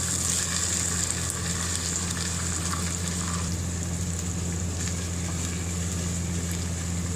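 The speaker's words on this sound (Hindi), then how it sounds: "लहसुन अदरक का पेस्ट शामिल करने के बाद इसको आप अच्छे तरीके से मिक्स कर लें।" Garlic-ginger paste sizzles steadily in hot oil while being stirred for chicken biryani, a continuous close frying hiss with faint scraping and no talk.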